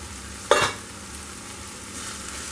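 Tomatoes fry in a pan for jhunka, a soft steady sizzle interrupted by one sharp clank of a spoon stirring against the pan, followed by faint scraping.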